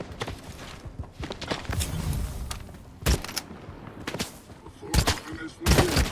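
Gunfire from a weapon in S.T.A.L.K.E.R. 2, sharp separate shots in short groups against game ambience, with the Kharod in play, sounding close and loud.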